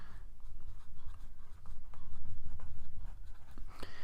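A pen writes out a maths example by hand on paper. The scratching is continuous and close, with short pauses between strokes and no speech.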